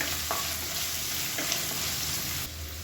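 Sliced onions sizzle in a pan as they fry for a kurma. The hiss is steady and close, with a few soft clicks from stirring and no voices.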